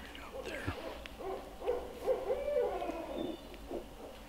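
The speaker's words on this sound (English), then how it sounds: "We got this barred owl. Was right above us hooting." A barred owl hoots from directly overhead in a woodland during a spring turkey hunt, a rhythmic series of mid-pitched calls rising and falling over several seconds, close and clear against a quiet background.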